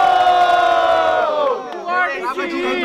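A crowd at a student rap battle semi-final roars with cheering and shouting, a loud sustained collective cry that fades after about a second and a half into scattered yells.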